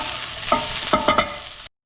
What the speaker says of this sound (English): You just want to keep stirring it so it doesn't stick to the pan